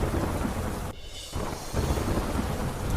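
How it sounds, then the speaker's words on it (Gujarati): Heavy monsoon downpour in Tapi, Gujarat, with thunder rumbling through a steady roar of rain; the wash drops away briefly near the middle before the loud, dense rain returns. "તાપીમાં અનરાધાર વરસાદ."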